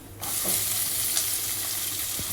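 Cashews fry in hot ghee with a sudden onset of steady, crackling sizzle that carries on evenly, close and fairly loud, with a couple of faint clicks.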